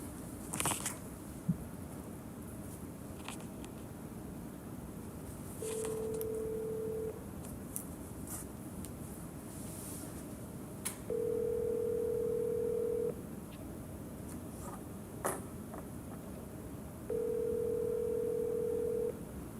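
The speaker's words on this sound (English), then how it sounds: "Calling Jeffrey Kervin, phone number 205-826-2965." A telephone call placed from a city council meeting system gives steady tone bursts spaced several seconds apart, like ringback, over a constant low hiss with a few faint clicks and no talking.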